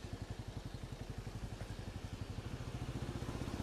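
A Benelli Imperiale 400 single-cylinder motorcycle engine runs steadily close by, a rapid even thumping pulse that grows slightly louder and busier, with no talk over it.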